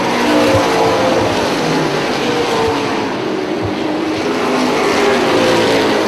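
Sportsman race cars roaring around a track at an inaugural race, a dense continuous engine drone of several cars close by and loud, with no break across the stretch.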